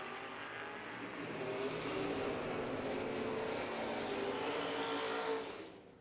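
Drag race cars launch at a drag strip with a loud, sustained engine roar that stays strong for several seconds and then begins to fade. A crowd or open-air wash sits underneath, and no one talks.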